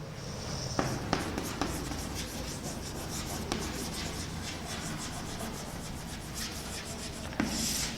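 Chalk or a marker scratches and rubs continuously across a classroom board, with a dense scraping texture and a few sharp taps as strokes begin, close and fairly quiet.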